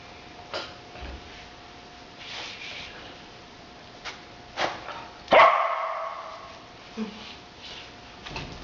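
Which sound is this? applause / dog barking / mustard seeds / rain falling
dog barking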